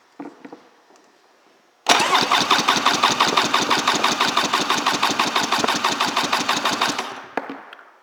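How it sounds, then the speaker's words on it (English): The fuel-injected 800 engine of a 2003 Polaris Virage I personal watercraft is cranked for a compression test, its starter giving a loud, fast, even chugging rhythm for about five seconds before stopping abruptly, with nobody speaking. "We're going to do an engine compression test, and we'll start with the PTO side first."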